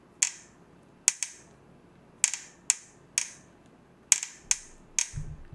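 Sharp metallic clicks from a bike's handlebar headset, about eight of them at irregular intervals, close and distinct, with a faint thump at the end.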